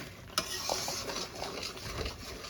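Spinach stirred with spice paste in a pan, a faint sizzle with soft scraping and stirring strokes and one sharp clack of the utensil near the start.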